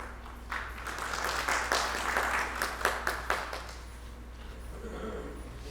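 Audience at a Hindi stage play performance clapping to welcome the chief guest visiting from Mumbai, a few seconds of moderate scattered applause that swells briefly and then thins out.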